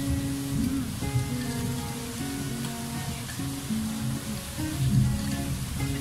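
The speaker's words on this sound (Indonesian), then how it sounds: "Sudah hujan pula kan." Steady rain falls outdoors after hot weather, a continuous broadband hiss of drops on surfaces that stays even and fairly loud throughout, with faint tonal sounds running beneath it.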